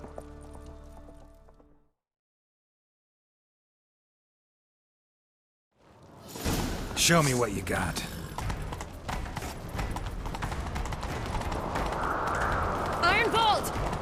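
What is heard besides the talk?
horse galloping in The Witcher 3 video game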